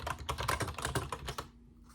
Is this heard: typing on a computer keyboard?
yes